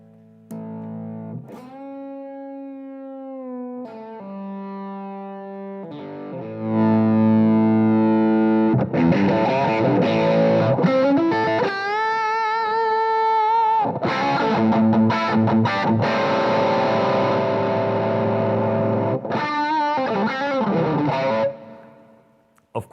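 Electric guitar played straight through distortion effects pedals with no amp, starting with a few clean-ish plucked notes, then sustained, heavily driven chords and riffs, loud and continuous before stopping abruptly.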